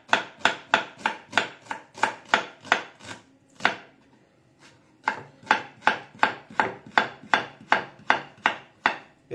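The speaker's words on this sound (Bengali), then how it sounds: "পেঁয়াজটাকে পুরো কুচিয়ে নেব না, জাস্ট স্লাইস করে নেব।" An onion being sliced with a knife on a board for hot spicy cheese noodles gives sharp, steady chopping knocks in a quick even rhythm, with a short pause in the middle, close and clear.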